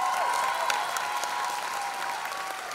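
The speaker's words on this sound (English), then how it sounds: "I think he deserves a round of applause for that" Steady crowd applause at a film star-cast event, continuous clapping with a faint tonal hum running underneath, even and sustained throughout.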